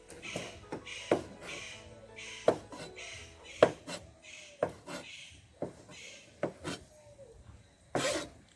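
A knife chops cooked, tender octopus on a cutting board in a steady series of sharp, close knocks, roughly a dozen irregularly spaced cuts with faint rubbing between them and no talk.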